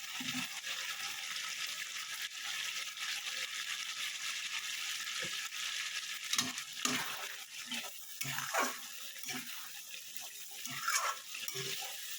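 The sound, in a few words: stirring potatoes frying in spices in a pan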